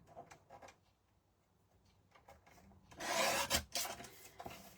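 Paper for a rose-themed photo pocket craft being cut down to size, a dry rasping, rubbing run of strokes that swells loudly near the end after softer scattered scrapes and taps, with no voices.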